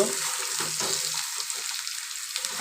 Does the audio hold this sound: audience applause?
no